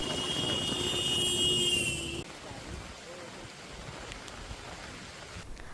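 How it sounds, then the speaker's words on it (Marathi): Heavy monsoon rain pours over Mangaon taluka in Raigad district, Konkan, as a steady broadband roar. A layered tonal hum drops away after about two seconds, leaving a continuous even hiss with no clear speech. "गेल्या काही तासांपासून सुरू असलेल्या मुसळधार पावसामुळे सर्वत्र पाणीच पाणी झालंय"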